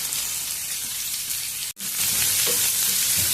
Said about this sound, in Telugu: ఇప్పుడు ఉల్లిగడ్డలు, పచ్చిమిర్చి, టమోటా కూడా వేసి కొంచెం కలర్ వచ్చేంత వరకు వేయించుకున్నాము.